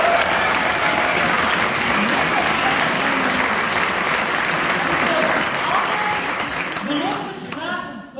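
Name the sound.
audience applause at award ceremony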